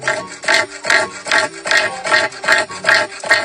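A cassowary, a large jungle bird, gives a rhythmic series of eight harsh, rasping calls at steady intervals, each a loud gravelly burst, heard close with no talk.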